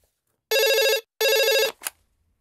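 A telephone rings in two loud electronic bursts of about half a second each, separated by a short gap, with a brief chirp after the second. The ringing is close and clear, with no talking.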